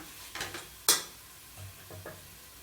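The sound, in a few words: stirring and sautéing biryani masala with curd and herbs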